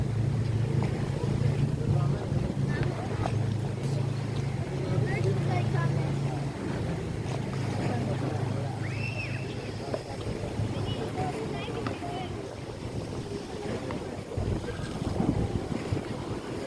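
Strong stormy wind at the beach blowing hard across the microphone, a loud low roar with surf rushing beneath and a voice heard faintly.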